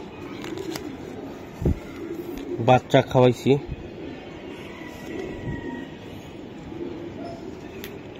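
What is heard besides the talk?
racing pigeons cooing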